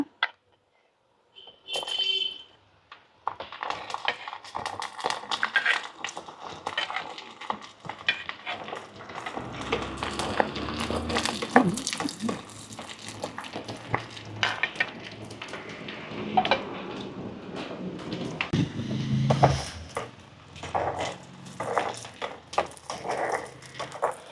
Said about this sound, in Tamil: இப்போ நல்லெண்ணெய் நல்லா சூடாகிட்டு இதில் நாங்கள் முதல்ல உள்ளியை உரித்து உள்ளி வெட்டவே இல்லை அப்படியே முழு உள்ளியாக எடுத்து வச்சுருக்கிறோம் அதை போட்டு வதக்கிடுவோம்